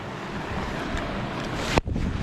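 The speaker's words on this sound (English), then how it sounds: "we have an absolutely beautiful waterfall here" Waterfall on the Snowdonia Slate Trail in the mountains, a steady broadband rush of falling water close by, constant and loud with wind buffeting the microphone and a brief knock near the end.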